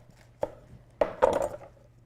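A knife slices a vegetable down the middle on a cutting board while prepping produce for grilling: three close, crisp chopping knocks, the last a longer crunching cut, with no talking.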